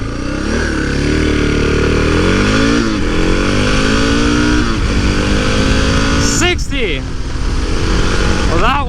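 A GS850 Scrambler or DR650 dual-sport motorcycle accelerates hard offroad, its loud close engine revving up through several gear changes under heavy wind noise, with a rider talking.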